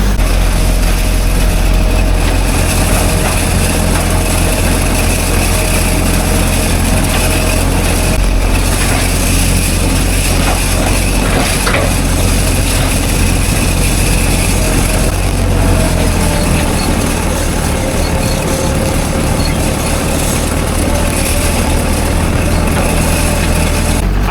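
Steady, loud drone of an RB450 machine running continuously while working a yard, with a constant engine roar and slight shifts in pitch as the speed is adjusted, no talk.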